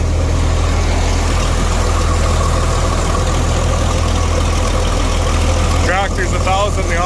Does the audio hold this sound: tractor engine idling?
yes